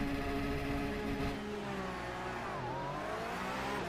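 A Porsche race car engine in iRacing, during a Porsche Tag Heuer eSports Supercup race, revs high with a steady whining tone, dipping briefly and then climbing again.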